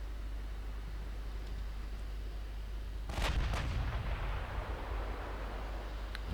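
In the Ultimate Admiral Dreadnoughts warship game, naval guns fire in a heavy booming salvo of two close blasts that rise out of a constant low sea and engine rumble, with the roar fading slowly afterward.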